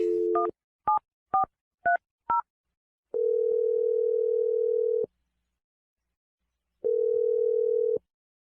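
Telephone touch-tone dialing: five quick beeps of a number being keyed in, followed by two long ringback tones separated by a pause.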